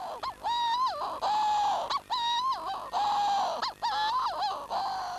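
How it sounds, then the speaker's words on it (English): Manx shearwaters call at night on Skomer island, a series of loud, harsh, wavering cries repeating in close succession, each rising and falling with a strained, crowing quality. "Our infrared cameras can reveal the source of this cacophony. These birds are Manx shearwaters."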